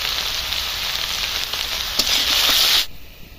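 Fried rohu pieces drop into a pan of sizzling onion, ginger, green chilli, cumin, turmeric and chilli paste, with a steady close frying hiss that swells briefly before cutting off.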